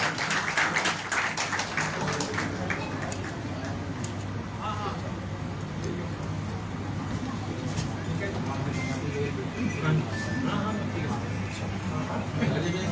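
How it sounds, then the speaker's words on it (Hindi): Loud applause from the audience at a Haryana news portal press club function, with many hands clapping in a sustained burst and sharp claps standing out, while someone talks over the crowd. "जोरदार तालियां।"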